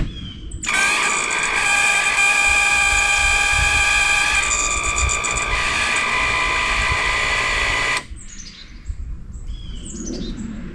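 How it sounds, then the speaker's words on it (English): An Evinrude 150HP outboard's tilt and trim motor whines steadily for about seven seconds, loud and close with a high electric tone, then cuts off, leaving faint background noise. "I'm just gonna grab a hold right here and move this up and then move it down"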